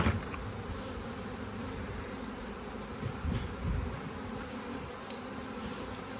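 Bees hum steadily around an opened hive being smoked down, a dense low buzz filling the whole span with a few louder swells as insects pass close by.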